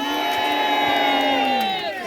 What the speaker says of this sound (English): How about a cheer for the men of Surrey?